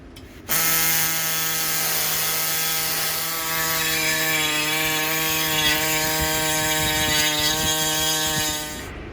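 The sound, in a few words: body saw cutting a scissor lift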